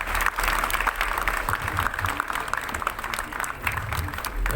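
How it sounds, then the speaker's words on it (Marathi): Audience applause at a film event welcoming the editor of the film Kadipatta: a crowd claps continuously at moderate loudness, slightly thinning toward the end. "तर टाळ्या वाजून यांचं नक्की स्वागत करा."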